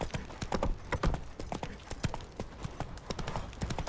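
Roach, a horse in a video game, gallops with quick, close, rhythmic hoofbeats in an uneven clatter, with no speech over it.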